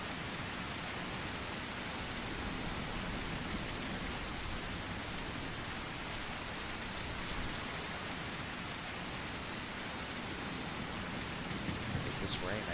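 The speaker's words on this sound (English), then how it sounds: "With this rain, I can't hear anything other than the rain." Heavy steady rain in the video game The Isle pours as a dense, unbroken hiss that fills the whole scene, constant and enveloping with no pauses.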